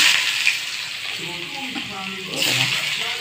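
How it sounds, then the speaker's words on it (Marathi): Onion sizzles steadily in hot oil in a pan, a soft continuous crackle with faint background voices mixed in. "कांदा आपला परतून घेऊ आपण"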